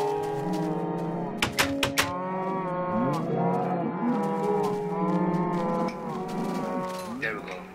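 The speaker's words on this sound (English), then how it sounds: "I got a lot of cows in here though." Cows in Minecraft on Xbox 360 low repeatedly in a pen, overlapping game moos rising and falling continuously, with a few sharp clicks early on and a steady moderate level throughout.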